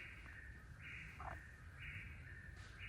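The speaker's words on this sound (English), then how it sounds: "It's an eastern whippoorwill. I've never heard one before." An eastern whippoorwill calls repeatedly from a distance, a faint, rhythmic, whistled phrase over quiet outdoor background along the Appalachian Trail.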